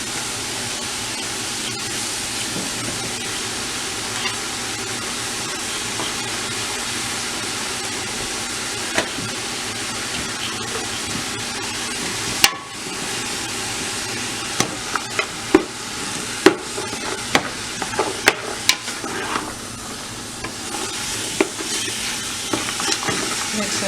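Ground turkey sizzles steadily in a pan for chili, with a continuous frying hiss and intermittent scraping clicks of a utensil stirring, the taps growing more frequent toward the end.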